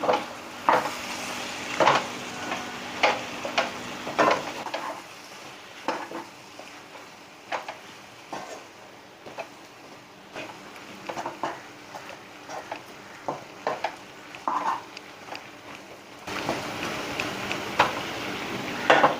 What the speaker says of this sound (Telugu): మసాలా పొడి ఒక స్పూన్ కారం ఒక స్పూన్ చూడండి కలుపుతాను